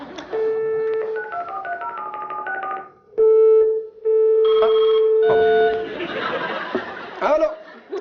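A telephone is dialed on a game show: a run of clear keypad tones in varied pitches, then a long steady dial tone broken by a short gap, followed by more tones and brief laughter.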